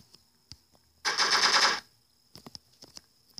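Gunfire in the Block Strike video game: a single rapid automatic burst lasting under a second, surrounded by scattered faint clicks and small in-game noises.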